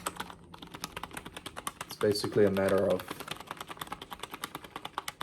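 Keys clatter on a computer keyboard in a fast, steady run of sharp clicks, close and fairly quiet, with a short burst of speech breaking in partway through.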